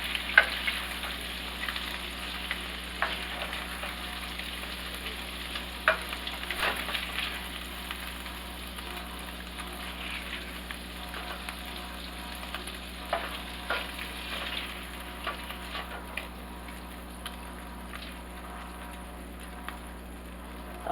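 Swedish meatballs fry in oil in a pot, giving a steady close sizzle with scattered pops and occasional utensil clinks, no voices.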